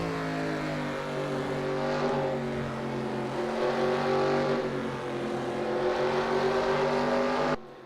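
Race cars on the Milwaukee Mile oval in a racing game run close together, their engines a steady, loud, harmonic drone that holds high revs for several seconds before cutting off abruptly.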